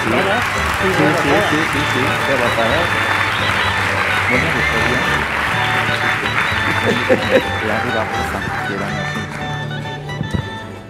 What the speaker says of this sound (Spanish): Un aplauso para mi madre.